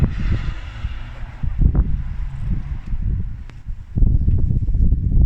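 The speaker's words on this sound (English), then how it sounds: "I'm fighting against some brutal fucking cold ass wind at the minute" Strong, bitterly cold wind buffets the microphone outdoors beside a Vauxhall Vectra C, a steady low rumble with gusty surges, easing briefly before swelling again near the end.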